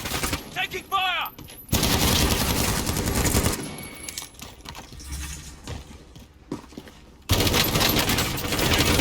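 Gunfire in the video game Warzone, loud bursts of rapid automatic fire in several stretches separated by quieter gaps, with a brief voice cue and some background game sounds.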